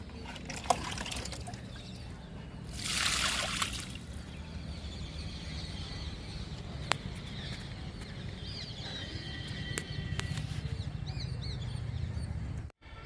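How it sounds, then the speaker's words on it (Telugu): Kitchen-waste liquid fertilizer made with carrot, beetroot and almonds splashes onto a lemon plant in one brief pour, a quiet outdoor background with faint birds or chickens around it. "నిమ్మ మొక్కకి లిక్విడ్ ఇస్తున్నాను."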